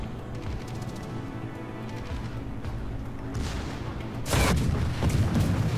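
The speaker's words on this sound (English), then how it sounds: "Pour some gunfire into them." Heavy naval gunfire booms in a World of Warships battle, scattered thuds building to a loud blast near the end over a continuous low rumble.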